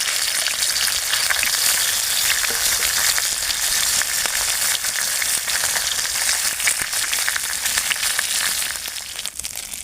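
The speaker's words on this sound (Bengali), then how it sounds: "তেলটা গরম হয়ে গেছে, এবার আমি তেলের ওপরে দিয়ে দেবো মাছের মাথা" Half a fish head frying in hot oil, a loud, steady, close sizzle that crackles without pause and eases slightly near the end, with no voices.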